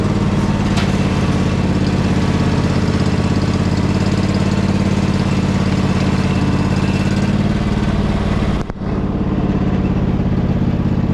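A mud mower's engine runs loud and close on a trail, a steady rough rumble with a raspy mid-range drone that holds constant, then briefly cuts out before resuming.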